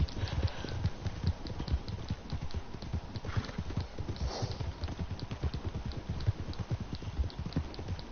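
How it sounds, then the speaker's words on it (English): Horse hooves clip-clopping in Red Dead Redemption 2 as the horse is ridden down a mountain, a rapid, steady rhythm of hoofbeats close by, with soft ambient noise underneath and no talk. "don't take your horse down mountains like that, they don't like it"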